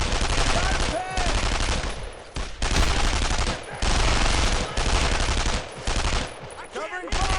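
Gunfire from a World War II squad battle against German paratroopers in Brothers In Arms: Road to Hill 30. Loud, sustained rifle and machine-gun fire rattles in dense overlapping bursts with only brief gaps.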